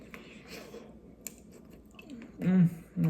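Close crunchy chewing with several crisp bites, followed by a voice speaking briefly near the end.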